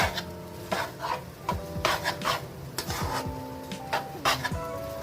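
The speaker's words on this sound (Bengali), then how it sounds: "দেখো এরকম ভাবে তাড়াতাড়ি করে নাড়িয়ে তেজ আছে এটা বানাতে হবে।" Veg chowmein noodles tossed and stirred quickly in a pan, giving repeated rasping scrapes of the utensil against metal in a fast, uneven rhythm, close and fairly loud, with faint tonal kitchen noises underneath.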